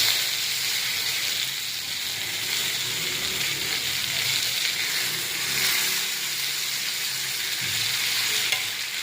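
Sankara fish frying in a pan, a steady, close hissing sizzle with small crackles and pops throughout, heard alone without any talk.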